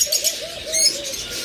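Pet pigeons kept for sale coo in a series of soft, rolling calls close by, with a few lighter chirps over them and no one speaking.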